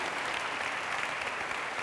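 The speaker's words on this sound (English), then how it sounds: "I think you can applaud them again." An audience claps steadily and loudly for a group of entrepreneurs at a corporate awards ceremony, a dense, even round of applause with no voices over it.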